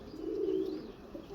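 A pigeon coos near the microphone, one soft low throaty call that swells and then trails off into quiet background hiss, with no talking.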